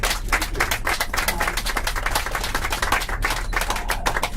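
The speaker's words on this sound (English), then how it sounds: "Let's give Miss Bland a round of applause, please." An audience aboard a tour bus gives a round of applause: dense, lively clapping from many hands, close and steady for several seconds without a break.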